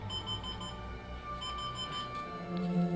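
A bedside alarm clock in the room beeps steadily and faintly, a thin repeating tone sitting under the louder hum and sounds of a Star Wars: The Old Republic game playing nearby.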